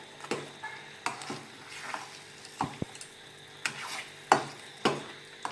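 A thickening Mysore pak mixture is stirred in a pan, with regular scraping strokes of the spoon against the pan about once a second over a faint, steady sizzle, all close up.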